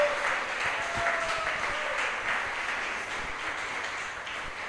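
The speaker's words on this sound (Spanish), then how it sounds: "Dele un aplauso al Señor." Church congregation applauding at a Spanish-language worship service, a steady wash of many hands clapping that holds at an even level for several seconds, with a faint sustained tone in the background.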